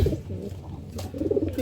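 Racing pigeon hen cooing close by in a couple of soft, throaty bursts separated by a short pause.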